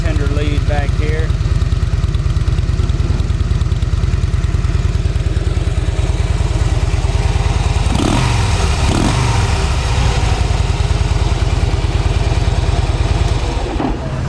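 A used fuel-injected Harley Davidson Softail Slim FLS idles steadily and close for the whole stretch, a deep, even engine pulse with a brief throttle blip near the end.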